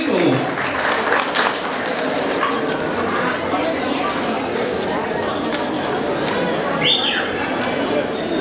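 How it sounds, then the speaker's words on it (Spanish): Audience applause for a fourth-place winner at an outdoor prize ceremony for pigeon racers, steady clapping throughout with people chattering, a dog barking and birds audible in the background. "Vamos a darle fuerte el aplauso a Rodrigo Hernández Martín"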